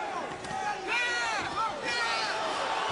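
Boxing crowd at a Timothy Bradley vs Junior Witter bout swells with rising shouts and yells, a loud, agitated roar surging in waves around the arena.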